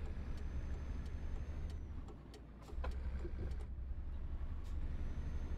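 Truck driving through a city street in Euro Truck Simulator 2, heading to Hannover: a steady low engine drone with a brief dip in the middle, plus faint high clicks and mechanical noises, and no talking.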